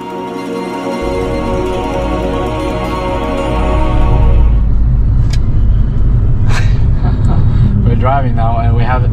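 A car driving on a road in Sardinia, heard from inside as a steady engine and road rumble that grows slightly heavier midway, with voices talking over it.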